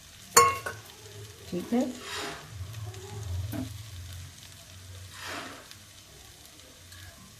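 Almonds are stirred into poha frying in a pan, with a soft sizzle, a few sharp utensil scrapes and clinks early on, and a brief quiet spoken remark.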